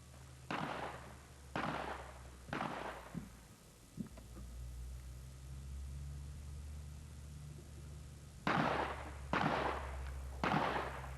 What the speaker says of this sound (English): And now at the 15-yard position, firing 3 rounds.